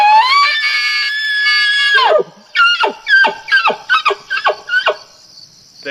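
An elk bugles in the fall: one sustained, high, whistling scream of about two seconds, then a run of short, sharp, descending chuckle-like grunts. The call is loud and close, with no talk.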